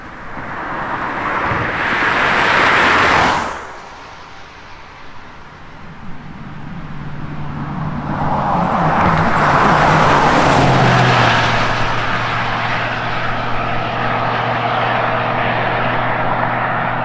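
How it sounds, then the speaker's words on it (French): Cars and large trucks pass by in loud, continuous waves beside a major highway where traffic runs at about 100 to 110 km/h, the roar swelling, fading briefly and building again with a low steady rumble, no voices. "Et non seulement tu as beaucoup de voitures comme ça, mais tu as aussi beaucoup de gros camions."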